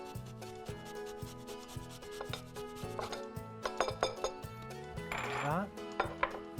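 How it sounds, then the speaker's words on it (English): Garlic and ginger rubbed across a kitchen grater for an Indian-style shepherd's pie, a close rasping scrape repeating in quick strokes with a few clinks, over steady background music. "Then let's grate in some garlic and ginger."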